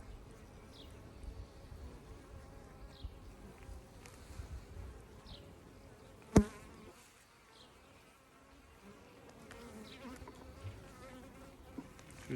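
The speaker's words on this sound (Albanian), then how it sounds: "Edhe bleta është bërë super e qetë." Honey bees hum around a hive frame heavy with honey and pollen, a soft steady buzz with individual bees passing near the microphone and a sharp knock midway.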